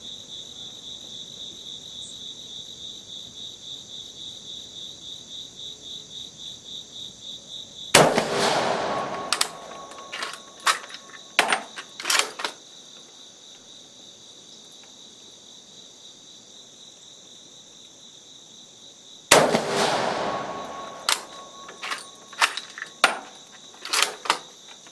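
An M91 cavalry carbine fires 139 grain PPU full metal jacket rounds outdoors, each a sharp, loud crack with a trailing echo, about eleven seconds apart, over steady background insect chirping.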